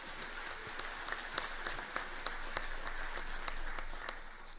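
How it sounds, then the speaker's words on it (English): An audience at an electricity summit afternoon session applauds staff of the Sheridan Center with steady, moderately distant clapping; sharp individual claps stand out in a regular rhythm over a dense wash. "can we just give a round of applause to the Sheridan Center staff for their hospitality today?"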